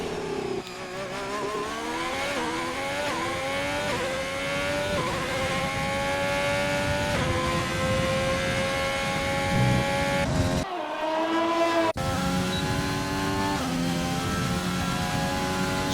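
Onboard sound of a GP2 race car engine at the United States Grand Prix, a loud high-pitched whine climbing through repeated upshifts, with a brief lift and drop in revs before accelerating again, no talking.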